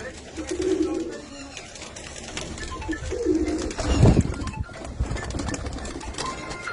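Domestic pigeons kept at a home in Punjab, cooing in soft low rolling bursts nearby with a brief flurry of louder movement midway, while someone talks over them.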